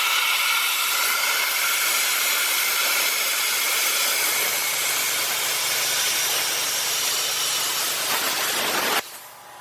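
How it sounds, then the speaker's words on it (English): A plasma cutter hisses steadily as it chops through a Toyota Tacoma cab mount, a loud, continuous roaring blast of air and arc that runs for several seconds before cutting off abruptly near the end. "basically using the plasma, chopping the chunk off that we need to chop off"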